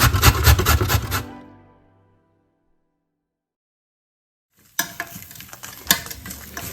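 Dry coconut is dry-roasted and stirred in a pan with a spoon, producing brisk scraping and rustling strokes for about a second, then a long silence, then the scratchy stirring resumes in uneven bursts.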